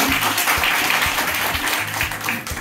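A crowd of students claps steadily and densely at a corporate IT training launch event. The applause continues throughout the short stretch with no talking over it.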